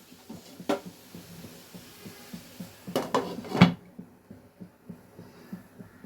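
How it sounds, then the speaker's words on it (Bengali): Cabbage mixed with salt and water in a pot, then covered, giving soft irregular scraping and stirring taps followed by a few sharper metallic clanks from the lid, close and fairly quiet. "এবার বাঁধাকপিটা একটু এপিটোপি ওই নুনের সাথে জলের সাথে মিশিয়ে দেব, দিয়ে কিছুক্ষণ চাপা দিয়ে রাখবো।"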